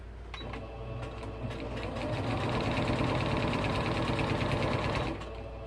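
A sewing machine stitches all the way around a piece for a home craft airplane project, a close, steady, loud whirring run of about five seconds that starts and stops cleanly.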